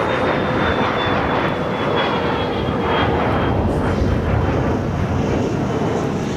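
A jet airliner takes off from LAX, its engines roaring loudly and steadily throughout with a broad rumble and a faint high whine, no voices present.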